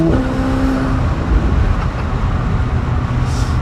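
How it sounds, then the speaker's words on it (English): Engine of a McLaren 750S Spider on an Alpine road trip, a loud, steady drone of the car at speed heard from inside the cabin with the back window open, a brief whine fading early on and no talking. "There's like the turbo sounds, the pops, the bangs, the crackles"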